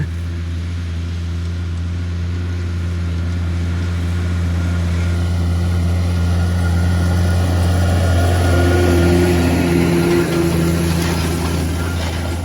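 A tractor pulls a Demetra LDD-5000 five-metre disc harrow through a field, its engine droning steadily and loudly throughout, with a rougher rumble building toward the end.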